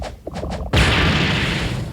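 A bomb from a planted-bomb skill in Roblox Blox Fruits goes off with a single sudden loud blast, a broad crashing roar that lingers and slowly fades, after a few soft thumps.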